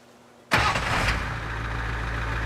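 A car engine in a video game cranks and catches with a sudden loud start, then settles into a steady, rumbling idle that continues alone.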